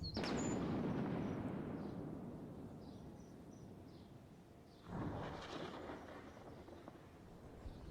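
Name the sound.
thunder of a southern storm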